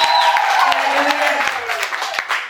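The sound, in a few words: audience applause at live performance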